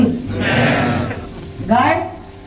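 Voices of a gathered group imitate a goat's bleat, two drawn-out wavering calls separated by a short pause, loud and near like a crowd shouting together.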